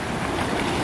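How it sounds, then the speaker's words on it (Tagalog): Surf rolls in at Seven Mile Beach in the Cayman Islands on a rough, choppy day, a continuous broad roar of waves mixed with wind buffeting the microphone, close and loud throughout the brief moment. "Kaya yung alon malakas dito."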